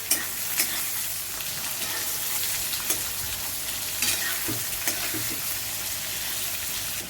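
Sliced onions sautéing in oil with bay leaf for chicken pulao, a steady close sizzle with intermittent scraping and stirring knocks against the pan.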